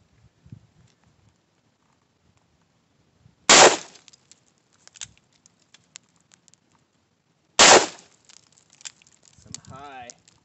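Two loud, sharp revolver blasts from a Ruger GP100 4.2-inch firing heavy Big Bore bear-load rounds outdoors, spaced about four seconds apart in quiet surroundings, with faint handling noise and a short spoken remark near the end.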